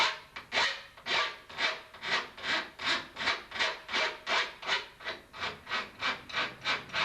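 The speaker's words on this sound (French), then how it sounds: "Alors il faut préparer les bords avec une petite lime." A small file worked along the sharp edges of a metal etching plate, about twenty steady rasping strokes in an even back-and-forth rhythm, close and clear with no voices.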